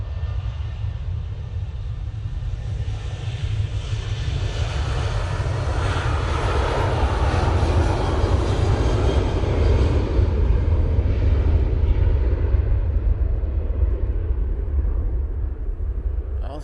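A Ryanair airliner at Manchester Airport produces a steady, loud jet roar that holds for the whole stretch, with broad low rumble that swells slightly toward the middle and no speech over it.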